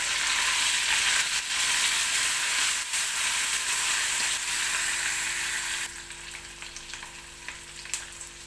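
Onion hits a cumin tempering for chicken curry, a dense close sizzle with stirring that quietens noticeably partway through and continues at a softer crackle.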